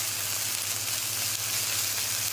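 Garlic and ginger fry in a pan for a shrimp coconut curry, giving a steady dense sizzling hiss close up, continuous and even throughout with a low hum beneath.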